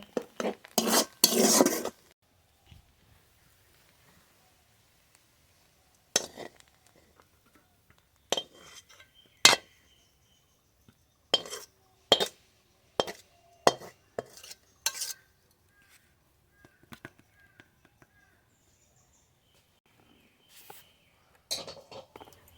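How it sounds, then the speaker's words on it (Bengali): Bele greens with coriander leaves stir-fried in a pot, heard as sparse, scattered metallic scrapes and clinks of a spoon against the pot in a quiet room, with long silent gaps between bursts and no talking. "বেলে শাকের সঙ্গে ধনের পাতা দিয়ে ভাজলে কিন্তু বেশি ভালো লাগে এবার খুব ভালো করে ভেজে নেব"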